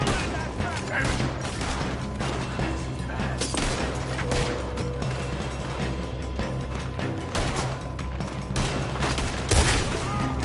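Gunfire in a Red Dead Redemption 2 shootout: repeated revolver and rifle shots crack in dense, overlapping volleys over a steady low rumble, with occasional louder blasts and faint speech mixed in.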